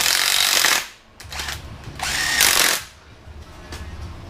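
A small impact gun tightens a bolt during a camshaft install, firing in three short, loud, close bursts of rattling whir separated by brief pauses.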